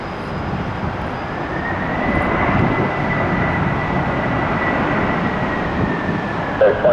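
A FedEx heavy jet lands and brakes hard on the runway at Tampa airport, giving a loud, steady broadband roar with a faint whining tone that holds for several seconds, with no voices.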